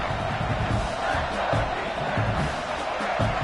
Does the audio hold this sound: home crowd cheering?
yes